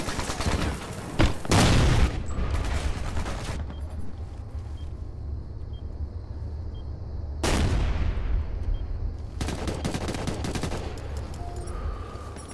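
Heavy gunfire in Ghost Recon Future Soldier: dense bursts of automatic fire and loud blasts crackle in long sustained volleys, dropping to a quieter rumbling lull between them, close and loud, with no talk.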